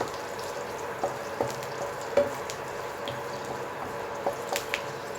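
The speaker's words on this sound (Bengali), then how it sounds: "শুকনো লঙ্কা আর কারি পাতাটা আমি ফ্রাই করে তুলে নেব" Curry leaves and dried red chilies fry in hot oil, giving a light crackling sizzle broken by sharp pops and spits, close by and fairly quiet with no speech.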